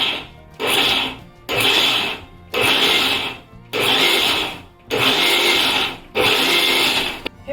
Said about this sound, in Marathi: त्यासाठी मिक्सर बघा नुसतं ऑन ऑफ करावा